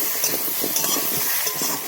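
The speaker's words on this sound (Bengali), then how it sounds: "এই ঘাটা মশলা দিয়ে ভেজে নিচ্ছি একটু" Lata fish fries with ground spice paste, potato and taro in a hot pan, giving a loud, steady close sizzle with light stirring scrapes throughout.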